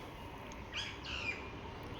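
Birds calling from a tree in the early morning, a few brief chirping calls heard faintly at a distance over steady background hiss, with no talking.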